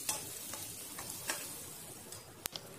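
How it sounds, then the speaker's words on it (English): Crushed garlic fries in oil in a pan with a soft steady sizzle, broken by a few sharp clicks and scrapes of a utensil stirring, no talking. "Add the garlic and roast it until it turns golden in color."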